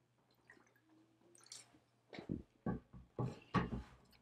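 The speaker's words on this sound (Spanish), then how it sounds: "Tomar un poquito de agüita para que funcione bien." A person takes a few small sips of water close to the microphone: quiet wet slurps and swallows in a short series of soft bursts after a near-silent start.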